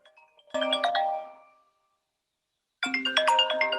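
A mobile phone ringtone goes off during a lecture, a bright melodic electronic tune playing loudly for about a second, cutting out briefly, then starting up again.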